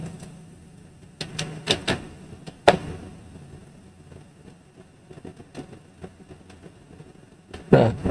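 Typing in a Windows search box on a computer keyboard: a handful of sharp, scattered key clicks with uneven pauses between them, close and fairly quiet, and no voices.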